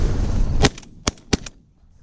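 Shotgun blasts while shooting pigeons in a city: three sharp cracks, the first louder and the next two close together, with quick echoing tails and then quiet.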